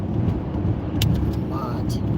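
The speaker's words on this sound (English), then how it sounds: "It's just a lot of traffic today." Cars pass in city traffic in a metro area, a steady close road rumble heard from inside a vehicle, with a couple of brief higher swishes as vehicles go by.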